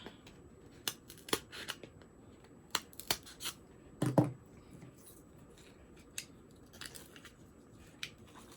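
Scissors snip and trim material for a DIY LED lamp made from Dollar Tree parts, giving a few sharp, close cuts spaced irregularly against a quiet background.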